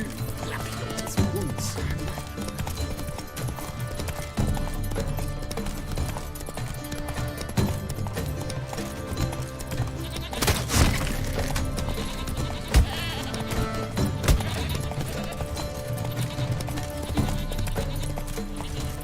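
Roach the horse gallops in The Witcher 3, hooves clip-clopping in a steady rapid rhythm up close, with occasional louder thuds and a brief voice urging it on.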